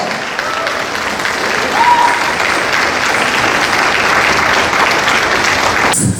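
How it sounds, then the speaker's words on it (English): Audience applause rings out after a performance at a medical association gala, a dense, sustained wash of clapping from a sizable crowd that holds steady for several seconds before cutting off abruptly. "Let's have a big round of applause"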